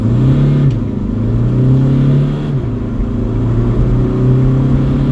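Hyundai Accent Blue 1.6 CRDI diesel with DCT gearbox pulling hard at full throttle from a standstill, steady loud engine drone rising in pitch, dropping briefly at a quick gear change, then climbing again.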